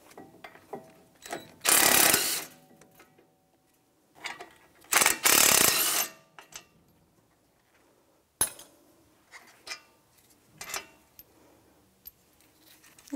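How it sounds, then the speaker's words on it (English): An electric impact gun works brake bolts loose on a 2011-2019 Ford Explorer, firing two loud, harsh rattling bursts of about a second each amid scattered clicks and clinks of tools and metal parts. "I'm going to get my electric gun and take those out the rest of the way."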